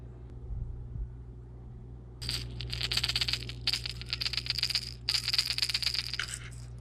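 A Rattle Trap fishing lure is shaken in bursts, giving a bright, metallic rattle of small beads that starts after about two seconds and continues in quick pulses over a low background hum. There is no talking.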